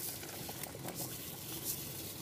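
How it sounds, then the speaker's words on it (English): Water bubbles at a steady rolling boil in a pot, a continuous close hiss with soft popping and no voices. "The water's boiling."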